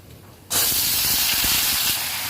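Brinjal drops into a hot pan of popped mustard seeds and sautéed garlic, setting off a sudden loud, steady sizzling hiss that holds strong for about two seconds.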